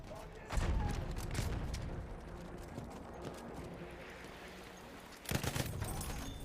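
Gunfire from a Lewis gun and Huot Automatic in the Battlefield 1 video game, heard as dense rattling bursts at the start and again near the end, with muffled battlefield noise in between.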